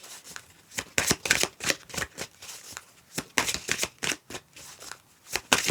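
Tarot cards being shuffled and drawn from a deck, close and crisp, in a rapid run of papery riffles and flicks with short pauses between bursts.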